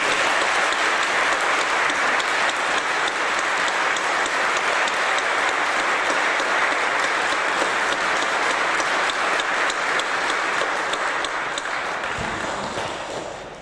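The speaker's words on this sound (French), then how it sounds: "Je vous propose aussi de les applaudir." After an organ concert in a Protestant church, the audience applauds loudly. The dense, even clapping fills the reverberant space for about twelve seconds, then thins out and stops.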